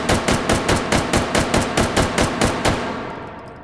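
Semi-automatic 5.56 rifle firing in the VR game H3VR, a fast, steady string of about fifteen loud, close shots with short ringing tails, ending in a fading echo.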